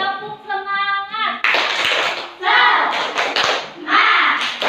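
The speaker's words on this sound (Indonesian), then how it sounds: "Ya, tepuk semangat." Fourth-grade schoolchildren in a classroom perform a rhythmic spirit clap, with bursts of group clapping in quick patterns after a teacher's sung lead-in. Children's voices chant between the claps, and the clapping sounds near and moderately loud.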